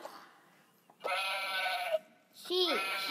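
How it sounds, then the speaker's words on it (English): Sheep bleat in a couple of quavering calls, a longer wavering bleat followed after a pause by a shorter one, fairly close and otherwise quiet. "Sheep. A sheep."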